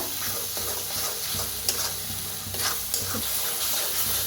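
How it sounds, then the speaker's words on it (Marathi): Chicken masala with onion, garlic and whole spices frying in oil in a pan, a dense continuous sizzle with occasional scraping and stirring clicks close by. "तर चांगलं भाजून घेऊया तेल सुटू"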